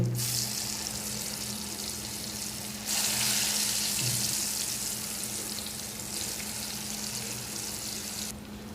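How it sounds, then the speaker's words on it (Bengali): Eggplant frying in a pan on a stove, with a steady close sizzle and crackle of hot oil that runs without a break and swells slightly louder partway through. "এই বেগুন ভাজতেছি এখন।"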